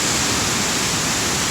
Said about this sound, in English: This is a remote waterfall.